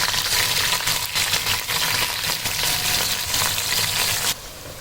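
Frozen and fresh chopped onions fry together in a pan, a loud, steady crackling sizzle that stays dense throughout before easing slightly near the end; no talking.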